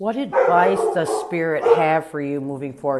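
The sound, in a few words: dog barking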